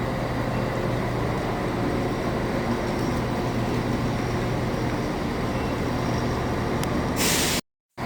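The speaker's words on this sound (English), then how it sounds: "Here we have a glimpse view of a Chiltern Railways Class 168, which is just about to set off to London Marylebone." A Chiltern Railways Class 168 diesel unit stands on a platform ready to leave for London Marylebone, giving a steady low idling rumble with broad hiss, constant and moderately loud, ending in a brief dropout.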